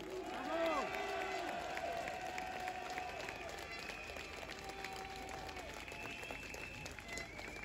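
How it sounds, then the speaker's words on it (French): Applause from an outdoor political rally crowd in France, a broad wash of clapping and crowd noise with a voice rising over it near the start, fairly faint and distant throughout. "Soutenons-les. Applaudissons-les."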